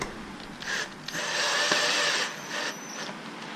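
A power drill drives a screw down through plywood, a steady whining burr rising for about two seconds then easing off, close and fairly quiet, with no talk.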